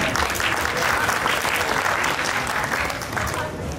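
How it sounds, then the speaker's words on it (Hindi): An audience applauds at a kavi sammelan poetry gathering in Paota. The clapping is loud, dense and sustained throughout, with faint crowd murmur mixed in. "आप सभी से निवेदन करना चाहती हूँ कि आप अपनी पुष्प रूपी तालियां मां शारदे के चरणों में समर्पित कर"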